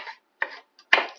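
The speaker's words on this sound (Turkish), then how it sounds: "Onları da doğruyorum." Knife chopping two small tomatoes on a cutting board for a potato roll sauce, heard as four short separate strokes, the last one loudest, with no talk.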